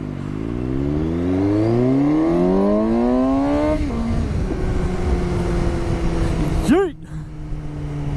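A 2019 Suzuki GSX-S750 motorcycle engine revs sharply, climbing to about 5,000 RPM and falling back, then blips again briefly near the end, loud and close with the engine idling in between.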